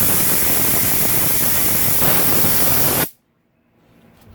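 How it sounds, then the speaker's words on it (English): Aerosol lubricant blasted into a Honda CRF250R motorcycle engine during a rebuild: a loud, steady hiss of spray for about three seconds, cutting off abruptly into near silence. "I'll just shoot some WD-40 up in here."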